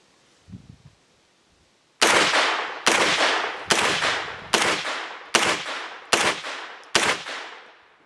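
A Smith & Wesson Response 9mm carbine fired seven times in a steady, evenly spaced string, each shot loud and sharp with a decaying echo, after a faint knock or shuffle beforehand.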